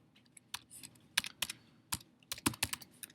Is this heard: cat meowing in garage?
no